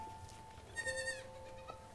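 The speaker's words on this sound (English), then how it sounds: "Why the fuck is there a goat?" A goat bleats in a TV drama scene, one wavering, tonal bleat in the middle of the clip over a quiet, humming background.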